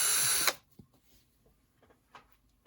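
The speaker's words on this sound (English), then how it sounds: "I'll drill them out a little bit." A power drill briefly enlarges screw holes in a model steam engine kit for an HO scale locomotive motor, whirring loudly for half a second before stopping, followed by faint scattered handling clicks.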